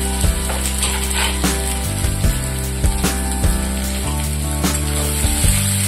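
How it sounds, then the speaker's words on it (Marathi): Onion frying in oil in a kadhai for chicken biryani, a bright steady sizzle over a loud continuous hum, with periodic clanks and scrapes from stirring. "सर्वप्रथम कढईमध्ये तेल घेऊन त्याच्यामध्ये कांदा परतून घेऊया"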